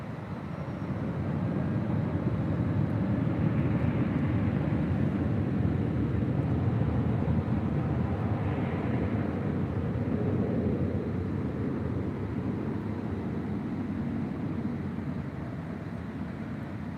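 A Southwest jet on its takeoff roll from runway 24 left at LAX, a steady broad roar that swells slightly and holds loud and distant-to-mid range throughout, with wind-like rumble and no talk.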